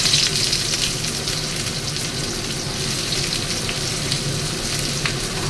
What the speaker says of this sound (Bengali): এবার তেলের মধ্যে আমি পেঁয়াজ ছেড়ে দিচ্ছি